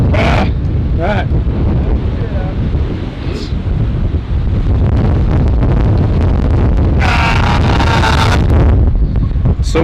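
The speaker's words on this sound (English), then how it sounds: "It got really windy" Strong wind on Breakneck Ridge in New York buffets the microphone in loud, continuous rumbling gusts, with people's voices breaking through briefly here and there.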